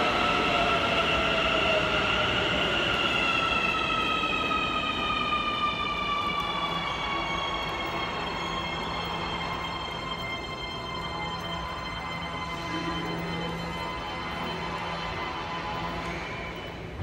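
Santiago Metro Line 6 train running, heard from inside the last carriage: a steady loud rumble with rising and falling high-pitched whines from the motors as it travels, continuous throughout.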